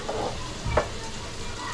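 Capsicum frying in oil in a pan while paneer curry is being cooked, giving a soft steady sizzle with one brief stir or clatter partway through.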